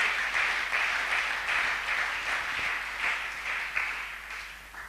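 A church congregation applauds after the reading of scripture, giving a continuous, fairly distant wash of clapping that holds steady from start to finish with no voices over it.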